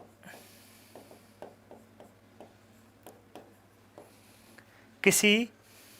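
Handwriting on a surface: a series of short, quiet scratchy strokes at a steady, unhurried pace, close by, followed by one louder brief burst near the end.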